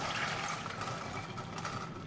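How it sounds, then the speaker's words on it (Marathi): Water drains off field beans soaked since morning, a continuous close gush and splash of liquid running out with no pauses. "आता ह्यातलं पाणी काढून घेऊया"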